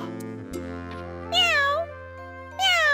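A person imitates a cat's meow during a children's animal-themed stage play: two drawn-out, rising-and-falling meows separated by a short pause, heard clearly over a steady low background hum.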